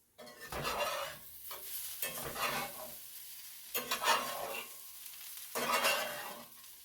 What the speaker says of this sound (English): That's the bacon.